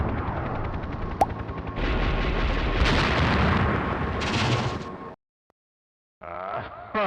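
Jeep blown up by heat-seeking submarine missiles in the Return Fire video game, heard as a loud rumbling blast with crackling debris that cuts to near silence, followed by a short burst of game sound effects.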